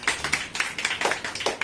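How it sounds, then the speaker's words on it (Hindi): A small audience at a menstrual hygiene awareness session claps loudly in quick uneven bursts, sharp hand claps close by with a rapid rhythm, no voices over it. "आपके लिए एक बार तो पहले जोरदार ताली"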